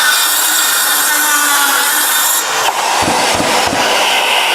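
A Hilti SC 6WL-22 cordless wood circular saw makes a straight cut through wood, a loud, close, continuous whirring rasp that shifts partway through and ends with a few short knocks as the cut finishes.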